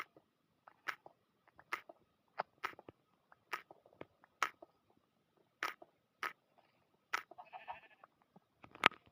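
Repeated short sheep bleats and animal calls in a Minecraft-style block game, in a quiet setting, about a dozen brief sounds spaced irregularly, fairly faint.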